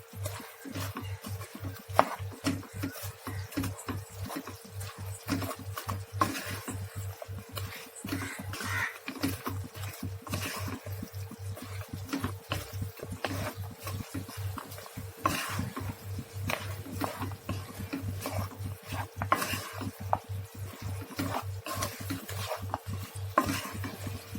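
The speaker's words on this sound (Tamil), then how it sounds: "சக்கரை பாங்கெல்லாம் ஈர்ற அளவுக்கு மிக்ஸ் பண்ணிக்கணும்" Bread being stirred with sugar in a pan for bread halwa, a steady run of soft scraping and gentle sizzling that carries on throughout with no one talking.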